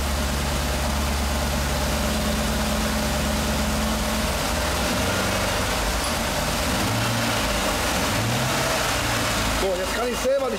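A 2015 Jeep SRT engine just converted to Prins VSI 2.0 LPG autogas idles with a loud, close, steady low rumble and a slight change in tone partway through, while voices talk over it.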